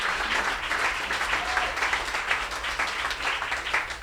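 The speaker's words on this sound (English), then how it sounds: "Thank you for that applause." Audience applause at a live storytelling event, a steady dense wash of many hands clapping throughout without a break, moderately loud and filling the room.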